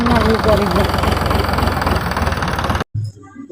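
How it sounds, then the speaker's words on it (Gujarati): A tractor engine idles loudly close by on a farm field, chugging steadily for a few seconds before abruptly cutting off; a voice briefly speaks in the background. "હવે ટ્રેક્ટર લઈને જઈએ છીએ"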